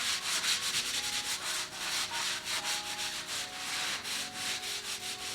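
A wet sponge rubs back and forth over a drywall patch in quick, even strokes, a close, rhythmic scratchy swishing that repeats without pause and with no talking.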